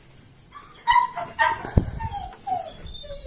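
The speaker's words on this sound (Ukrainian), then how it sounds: "Собака падла." A dog near a garage yips, whimpers and gives short barks, several high whining cries rising and falling over a few seconds.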